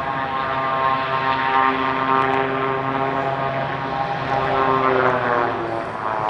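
A Piper PA-34-220T Seneca III twin-engine propeller plane banks into a turn on approach to land, its engines droning steadily and fairly loud with a throbbing, slightly wavering pitch overhead.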